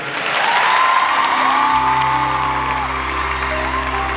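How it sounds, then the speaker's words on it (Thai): A large fan-concert audience applauds loudly and steadily for the character Fei, a dense sustained wash of clapping with some cheering, while a low musical hum enters partway through. "ขอเสียงปรบมือให้เฟยด้วยครับ"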